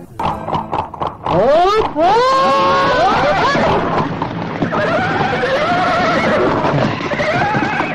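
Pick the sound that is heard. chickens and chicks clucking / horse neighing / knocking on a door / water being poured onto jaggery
horse neighing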